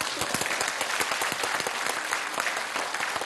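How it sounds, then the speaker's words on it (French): A debate audience claps after a speaker finishes, dense and steady applause filling the whole stretch at a fairly loud level without talk. "je crois que vous pouvez applaudir"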